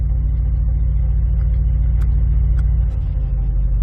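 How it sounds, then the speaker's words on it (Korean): A Mercedes-AMG SL63 4MATIC exhaust in Sport Plus mode rumbles steadily at close range, a deep continuous drone with faint crackles and no voices over it. "이 배기음이 달라지는 거 느껴지시죠 스포츠 플러스 모드입니다"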